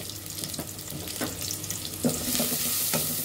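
Turmeric, chilli and coriander powders with green chillies sizzle and fry in a pan for a Bengali fish curry, a steady close crackle with intermittent scraping stirs, no voices.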